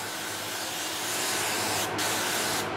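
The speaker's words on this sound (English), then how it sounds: "Let me just give this a light mist now." A spray bottle lightly mists a microgreen tray of broccoli, tatsoi and Brussels sprouts in a close, continuous hiss, with two quick breaks where the trigger is released and squeezed again.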